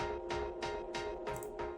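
Synth processed with tube distortion, a gritty sustained tone with rhythmic pulsing hits about every third of a second, moderately quiet and with no voices.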